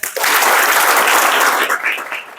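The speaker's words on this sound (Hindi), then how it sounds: "3 बार मैं बोलूंगा ताली बजाओ, तब ताली बजाना है आपको" Schoolchildren at a school program clap together on command, a dense burst of applause that swells quickly, holds steady for about two seconds, then thins out toward the end.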